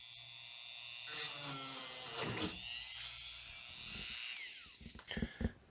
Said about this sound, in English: Let me get my rotary tool out with the drill bit